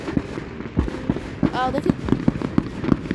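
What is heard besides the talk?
fireworks exploding close by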